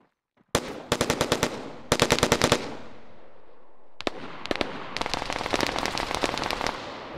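Rapid bursts of automatic gunfire in a capture-the-flag video game match at an esports tournament quarterfinal, several loud clustered volleys separated by brief pauses, with no talking.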